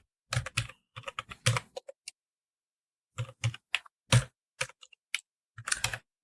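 Search text being typed on a computer keyboard, several quick bursts of close, crisp key clicks separated by a pause of over a second, with no voices.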